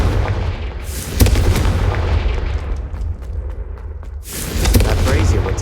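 A Confringo fire spell bursts in Hogwarts Legacy, with two heavy booming blasts about three seconds apart over a dense, rumbling game soundscape.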